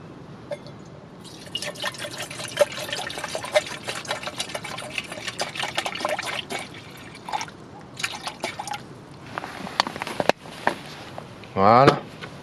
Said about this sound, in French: On va mettre un peu d'eau à chauffer.